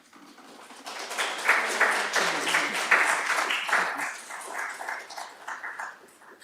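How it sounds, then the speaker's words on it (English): Applause breaks out at an Acton town select board meeting, a roomful of hands clapping that swells and then slowly thins over several seconds. "You don't usually get applause"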